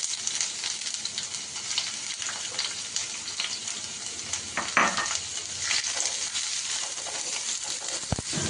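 Chopped onion frying in hot mustard oil for a prawn dish, giving a constant, fine crackling sizzle close up, with an occasional stir and a sharp knock near the end.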